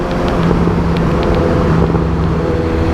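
BMW S1000RR sport motorcycle with an aftermarket slip-on exhaust, its engine droning loudly and steadily up close with a slight rise in pitch.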